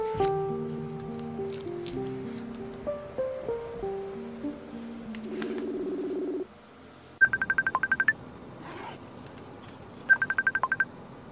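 Someone dials a phone number at home: after soft tones and background sounds, two quick bursts of rapid beeping keypad tones, close and clear against a quiet room.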